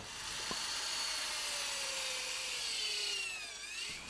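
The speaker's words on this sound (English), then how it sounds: "The holes are drilled about 10 centimetres apart." Holes drilled into a traditional baby lobster trap from Phu Yen, Vietnam: a steady, high whining drill runs continuously and close, its pitch sliding gradually, with a brief knock near the start.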